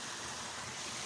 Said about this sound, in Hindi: ये ऊपर से आ रहा है पानी